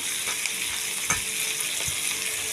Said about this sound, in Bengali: পেঁয়াজটা একটু লালচে ভাজা করে দিয়ে তারপরে আমি দিয়ে দেবো